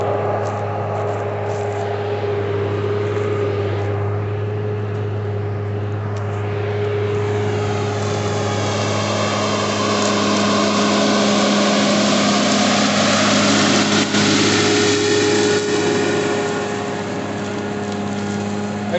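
Tractor engine pulling a subsoiler through moist, rain-soaked field soil, a steady droning hum with constant low tones that swells slightly midway, heard alone without talk.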